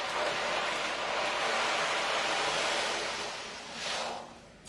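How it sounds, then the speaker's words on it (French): During a sound massage, instruments create a broad, steady rushing wash like sea surf that holds evenly, then dips and swells once more before fading near the end. "des bruits qui peuvent nous rappeler la mer, le ressac, L'orage."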